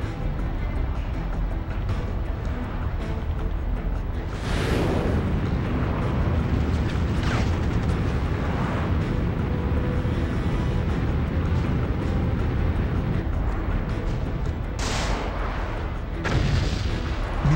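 Explosions and heavy blasts in the Iron Man PS2 game as missiles are destroyed, a continuous loud roar of booms with several sharper bursts standing out, accompanied by faint voice lines.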